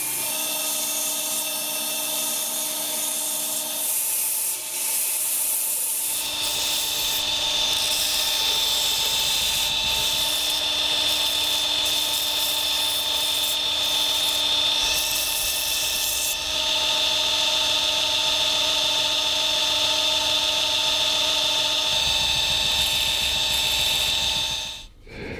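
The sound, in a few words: belt sander with 80 grit belt sanding a wooden knife handle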